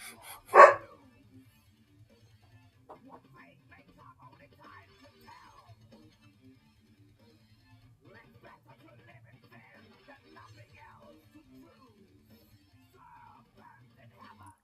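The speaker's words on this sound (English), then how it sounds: "Goofy little dog." A small dog gives one loud, close bark at the start, then only faint scattered sounds and quiet talk follow for the rest.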